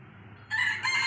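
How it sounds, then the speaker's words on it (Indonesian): A rooster crows once, a short faint call coming in on a quiet background on a Sunday at home, clearly heard. "sambil menikmati suara ayam juga"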